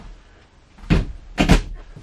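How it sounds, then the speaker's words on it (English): A door in the bathroom of a 2018 Wildcat Max 250 RDX RV opens with two quick, close knocks and clatters of the latch and panel, loud against a quiet room. "then we just open the door"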